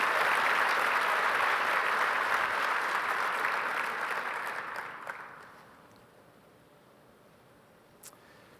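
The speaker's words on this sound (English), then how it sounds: "So please give her another round of applause." A keynote audience breaks into loud, dense applause that holds steady for about five seconds, then fades quickly into quiet room tone with one faint clap near the end.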